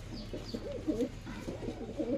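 Male pigeons cooing in a loft, a steady run of soft low throaty coos repeating close by with a faint background hum.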